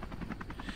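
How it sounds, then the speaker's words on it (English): Helicopter in the video game Happy's Humble Burger Farm, its rotor thudding in a steady rapid pulse with engine drone, fairly close and continuous through a brief moment, no talk. "Is this the helicopter?"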